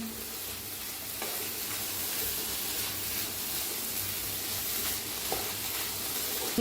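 A savoury snack mixture for bun bhaji roasting in a pan: a steady, even sizzle and hiss at moderate volume, with a couple of faint spatula taps.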